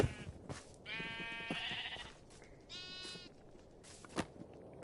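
Blocky Minecraft sheep bleating in a video game, two or three clear, nasal bleats spaced a second or so apart over quiet background, with faint thumps between.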